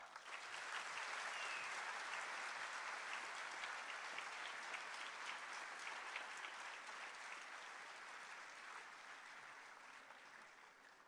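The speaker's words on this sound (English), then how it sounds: "a huge round of applause because this is the inauguration of the" A large crowd of students gives sustained applause at the inauguration of an IT block in Srinagar. The dense clapping is fairly distant and heard alone, swelling early and then tapering slowly over about eleven seconds.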